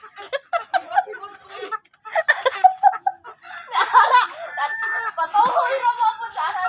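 Chickens cluck in irregular close bursts while a rooster crows nearby, the calls choppy and overlapping with brief pauses between them.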